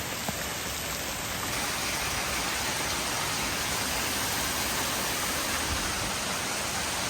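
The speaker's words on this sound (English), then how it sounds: "it is coming down extremely hard. About as hard as I've ever seen it rain." Extremely heavy, cold rain pours down on a street, a dense, steady roar of water that stays loud and unbroken from start to finish.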